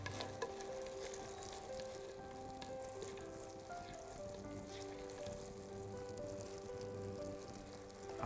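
Whole cinnamon stick and star anise sizzle and fry in a hot pan, a steady soft crackle with faint stirring, no voices.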